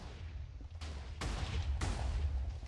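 Cannons on Minecraft airships fire in a battle, giving a few sharp booming blasts with broad rumbling decays about half a second apart, fairly faint over a low background hum, with no talk.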